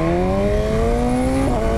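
A BMW S1000R motorcycle engine revs loud and close, its pitch climbing smoothly and steadily for a short burst.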